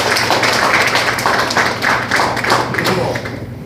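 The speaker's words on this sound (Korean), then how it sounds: "큰 박수 한번 부탁드리겠습니다" A forum audience in a hall gives loud, dense, sustained applause for several seconds, a thick wash of many hands clapping that tapers slightly toward the end.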